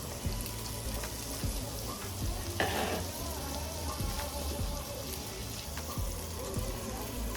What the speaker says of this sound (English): we're gonna put the chicken sausage right in there, y'all. Yeah, sizzle, let that cook a little bit